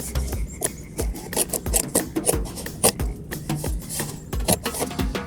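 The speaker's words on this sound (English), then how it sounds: "Going to cut a nice rectangle shape in one side of the carton and then the other." Sharp scissors snip and rasp through a carton, cutting a rectangle into its side, with a close run of quick crisp cuts and scraping rustles and no talking.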